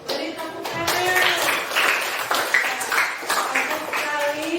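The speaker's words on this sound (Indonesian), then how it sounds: "Baik, beri tepuk tangan" A classroom group claps for a student discussion group, a steady stretch of applause running about four seconds with scattered hand claps over it and some voices underneath.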